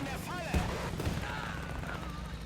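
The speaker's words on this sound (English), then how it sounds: "The mortar is still causing troubles." Mortar and gunfire in a WWII video game German campaign, dull booms and distant shots popping under a steady battlefield rumble, with a voice talking over it.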